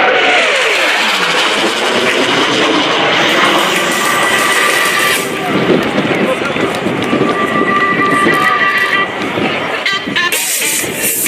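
A CF-18 Hornet fighter jet roars past at an air national guard open house airshow, its loud engine rushing and shifting in pitch as it sweeps overhead and stays close and powerful throughout.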